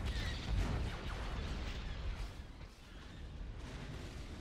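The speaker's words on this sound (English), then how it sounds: "We got all our 170s bombing it now." Bombers striking a shield generator in the space strategy game Empire at War, a continuous rumble of distant explosions and booming fire without letup, moderately loud throughout.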